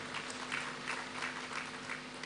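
Audience applause at an onboarding and matriculation ceremony, a steady wash of clapping from a crowd sustained throughout without pause, fairly soft and diffuse as if heard from within a hall.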